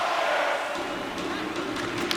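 A hockey arena crowd in NHL 26 roars in a continuous, moderately loud wash of cheering late in a tied period, with a few sharper bursts near the end.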